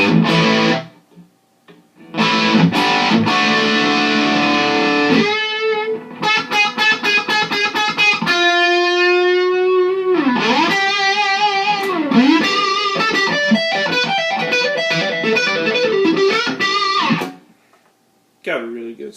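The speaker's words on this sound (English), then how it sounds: "When you need a distortion sound, that's pretty good." A 1999 American Telecaster electric guitar plays through a distortion pedal into a Vox AC15 amp: loud, saturated chords and sustained single-note lines, with short silent gaps near the start and end.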